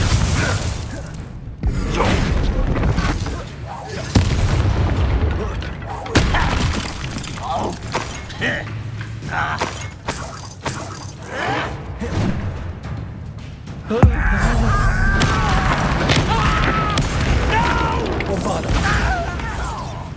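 Spell blasts from Hogwarts Legacy's Bombarda and Confringo, with loud, dense crashing booms, shattering debris and whooshes layered under combat chatter and called-out spell names, plus a heavy impact near the midpoint.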